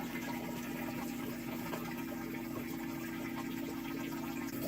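Water running steadily into a large container toward a 20-gallon mark while mixing saltwater for an aquarium, a constant close rushing flow with a low pump-like hum underneath.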